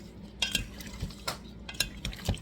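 Seasoned shrimp are mixed with soy sauce in a bowl, giving close, irregular clinks and wet scrapes from a utensil against the bowl.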